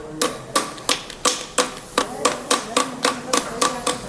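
A magnet-type key is tapped onto the crankshaft of a Honda Shine 125 motorcycle engine: about eleven sharp, evenly spaced metallic taps in a steady rhythm, close and fairly loud, with no talking.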